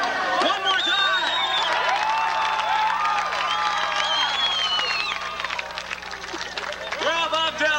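A show audience at Darien Lake fills the space with loud, sustained cheering, whoops and excited shouting, the noise thinning briefly before swelling again.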